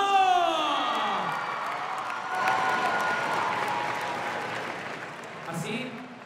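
Loud crowd applause and cheering at the nighttime opening ceremony of a school sports games, a dense sustained roar with whoops, while an announcer's amplified voice speaks over it at the start and end.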